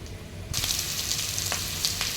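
Two large sliced onions drop into hot oil with dried red chillies, and a loud, close sizzle bursts in abruptly after a quiet moment, then holds as a steady crackling hiss with a few sharper pops.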